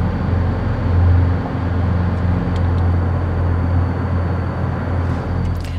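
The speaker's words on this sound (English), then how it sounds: "We're just driving at night." A 20-year-old truck camper drives along Route 66 at night, its engine and road noise forming a steady low rumble with faint wind hiss, continuous and close throughout.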